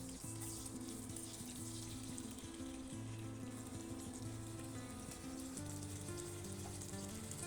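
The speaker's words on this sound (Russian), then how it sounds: "Лук обжарим 1 минуту на среднем огне." Onion sizzles in olive oil in a pot over medium heat, a steady crackling fry throughout, close by, with faint tonal music underneath and no talk.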